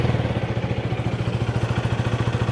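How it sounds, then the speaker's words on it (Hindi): A 2024 KTM Duke 250 idles with a steady, rapid pulsing exhaust thump, close and even, with no talk over it. "एक बार आपको एग्जॉस्ट नोट भी बाइक का सुना देता हूँ।"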